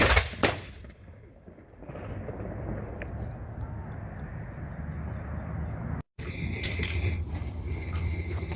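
A rifle volley fired by a line of shooters at a fort's Independence Day celebration cracks out loud and sharp at the start, then a second blast booms after a pause, with a brief silence and outdoor crowd noise in between.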